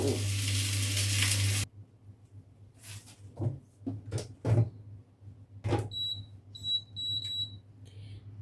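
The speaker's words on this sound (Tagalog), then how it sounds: "Electric stove po yung gamit natin. Ayan, gigisa natin yung ating bawang." Garlic sizzles briefly in a pan on an electric stove with a loud hiss at the start, followed by quieter clatter and stirring, then several high electronic beeps from the stove.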